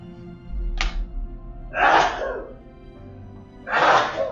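Two loud, close sneezes, each a sharp burst of breath, about two seconds apart, with a brief quieter intake before the first and low room noise between them.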